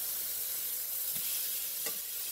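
Chopped sweet yellow onions frying in oil in a pan, a steady close sizzle with no break and faint stirring clicks on top.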